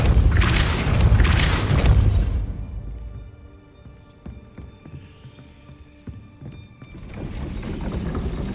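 A Depulso spell blast in Hogwarts Legacy bursts out as a loud, roaring whoosh, then fades into quieter clanks and small impacts, with a low rumble returning at the end.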